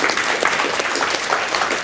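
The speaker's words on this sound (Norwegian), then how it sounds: "Applaus til våre frivillige." Audience applause for volunteers at a live student-festival show in a cultural venue, a dense burst of clapping from a full room, loud and continuous with no talk over it.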